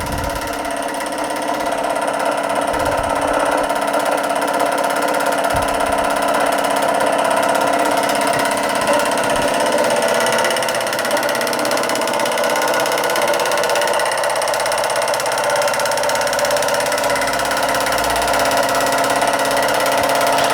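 Josef Falk vertical boiler model steam engine running steadily, a continuous close mechanical whir and rattle with faint rhythmic ticking, loud and unbroken throughout.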